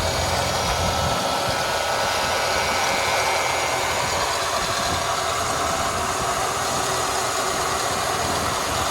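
A 1993 Ford Thunderbird SC with a supercharged 3.8 V6 idles close and loud, holding a dense, steady whirring drone with no change in pitch throughout.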